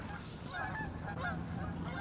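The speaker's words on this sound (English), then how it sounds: "I'm not sure if you hear birds." Geese honking outdoors, a few repeated nasal calls carrying at moderate distance over a low background rumble.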